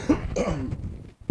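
A man coughs and clears his throat during a maths lecture, a few short rough bursts close to the microphone, then a brief silence and one more sharp cough.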